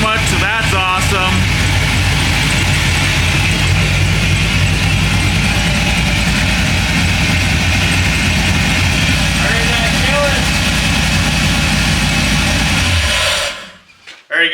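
The engine of a 1957 Chevy wagon fitted with a Stage 2 cam idles loud and close, holding a steady, slightly lumpy rumble for several seconds before cutting off abruptly near the end.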